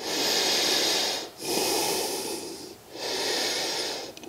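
Deep, slow breaths during a yoga flow, close and loud, with three long airy inhale-exhale cycles separated by brief pauses and no talking.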